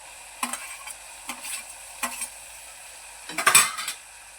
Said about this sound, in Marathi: आता हलवून घेऊया चांगलं